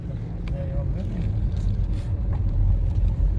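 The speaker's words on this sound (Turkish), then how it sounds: "Araba da geliyor." A car comes along a rough road toward the waterfalls, its rumble building steadily and loud, while a person talks over it.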